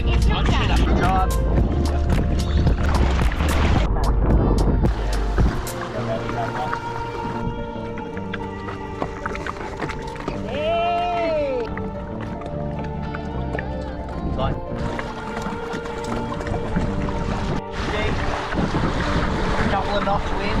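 Wind rushing past a catamaran under sail, a steady broad roar with water and hull noise throughout, with people talking and a voice calling out over it.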